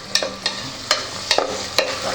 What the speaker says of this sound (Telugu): కొంచెం పచ్చి వాసన పోయేదాకా వేయించుకుంటే బాగుంటుంది